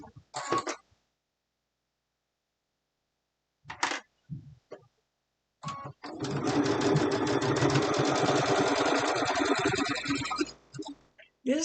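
A sewing machine stitches a fabric seam in one steady, continuous whirring run of about four seconds, preceded by short handling noises and a brief throat clearing.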